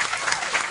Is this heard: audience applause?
yes